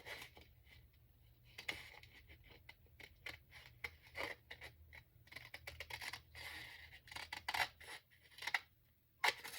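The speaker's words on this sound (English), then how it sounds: "So I'm going to cut this off" Scissors snip paper along a curved line in a quiet room, a series of short, crisp cuts with pauses between them and no talking.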